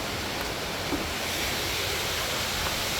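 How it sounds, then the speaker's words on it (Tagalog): Bridal Falls, a waterfall beside Kennon Road, roars in a steady, dense broadband wash of falling water, close and continuous with no voices over it. "welcome to bridal falls"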